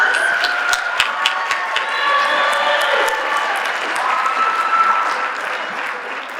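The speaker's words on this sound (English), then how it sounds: "So let's give her a round of applause." An audience at an MLK Day celebration and service event applauds steadily, dense clapping holding at an even level for several seconds with no speech over it.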